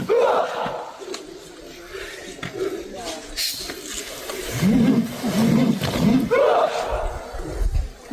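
Commando graduates shout together in loud, rhythmic bursts during a group kata demonstration at a military graduation ceremony, their massed cries rising and falling over crowd noise.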